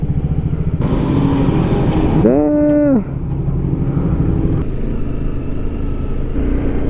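A truck passes on a rough mountain road in Spiti Valley, heard from a motorcycle on a road trip. A loud tonal horn blares briefly over steady engine and road rumble, and a voice speaks a single word.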